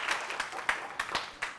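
A studio audience gives a short burst of clapping for a zikr singer: irregular, close, crisp hand claps over a faint murmur of voices, lasting just over a second.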